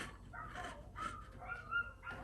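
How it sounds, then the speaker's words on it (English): Dogs nearby give a string of short yips, whimpers and barks in a home craft space while homemade gesso is being mixed, uneven and overlapping across the moment. "you can hear my dogs"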